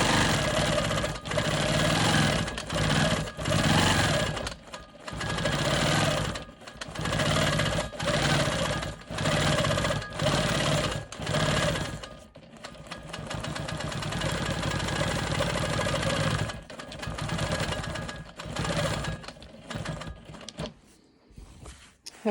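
A sewing machine quilting swirl patterns across a quilt block runs in a steady, loud mechanical whir, stopping and restarting in short bursts early on before a longer continuous stretch, then brief stutters near the end.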